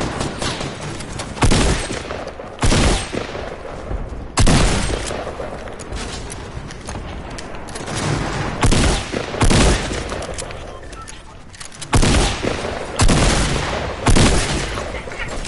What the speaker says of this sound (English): Oh, did you see Marco just get sniped?